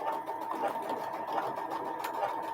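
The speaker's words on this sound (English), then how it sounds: "Sometimes my sewing machine gives me fits and doesn't like to feed the new block through." Domestic sewing machine stitching quilt blocks during chain piecing, a steady close whirring hum of continuous stitching that runs unbroken from start to end, with no voices.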